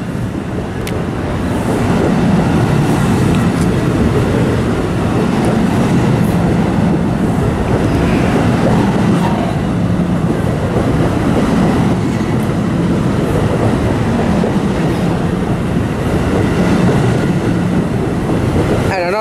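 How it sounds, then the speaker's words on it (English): NJ Transit multi-level commuter train passing through Trenton station on the Northeast Corridor, a sustained loud rumble of wheels and railcars with faint rhythmic clatter, steady from start to end. "And another multi-level train."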